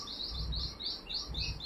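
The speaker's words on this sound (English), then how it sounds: "Ang ingay ng bird, sorry." A pet bird chirps indoors in a steady run of bright, repeated tweets, fairly close and moderately loud over a low background rumble, with no talking.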